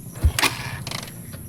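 A Rossi 175 motorcycle with no balancer is started: a short, sharp cranking burst catches, then the engine settles into an uneven running putter, heard up close.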